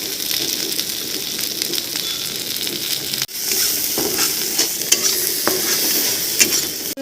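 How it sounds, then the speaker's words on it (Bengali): A loud, continuous sizzle comes from vegetables frying in a pan for Maggi noodles. Stirring scrapes run through it, with a sharp knock near the middle and another at the end. "সবগুলোকেই কিছুক্ষণ ভাজবো"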